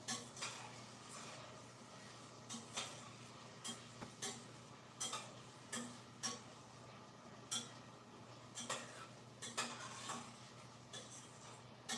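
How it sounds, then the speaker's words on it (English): Onions stirred in a pan give faint, scattered scraping clicks at an uneven pace over a soft steady background hum. "I'm gonna stir the onions."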